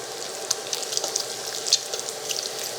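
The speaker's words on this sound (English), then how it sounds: "we have some bacon like already starting to sizzle" Bacon sizzles on an AMZChef induction cooktop, a close, crackling fry with frequent sharp pops and spits over a steady hiss.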